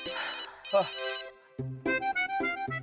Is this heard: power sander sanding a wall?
no